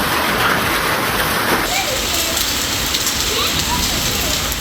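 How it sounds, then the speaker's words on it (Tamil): Heavy rain mixed with falling hailstones during a hailstorm over Kadathur and Karathozhuvu in Tiruppur district, a dense, steady roar of pelting precipitation that stays loud and unbroken throughout. "கடத்தூர், காரத்தொழுவு உள்ளிட்ட பகுதிகளில் ஆலங்கட்டி மழை பெய்தது."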